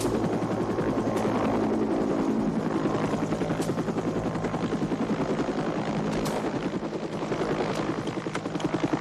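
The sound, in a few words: resupply helicopter arriving, in the film Platoon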